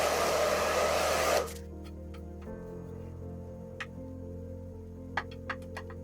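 A hair dryer blows loudly and steadily over a wet abstract painting, then cuts off, leaving a quiet room with a few faint ticks and taps.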